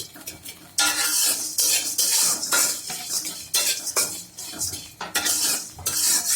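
Rice, sun-dried after being rubbed with salt, is stir-fried in a little oil, with a metal spatula scraping and clinking against the pan in steady bursts under a continuous close sizzle.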